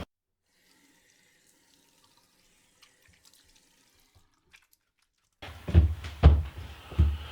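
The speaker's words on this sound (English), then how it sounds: "we're going to rinse the body cavity of the snapper" Tap water rinsing the body cavity of a snapper at a kitchen sink, a near silence with faint clicks, then a loud splashing gush of running water for the final couple of seconds.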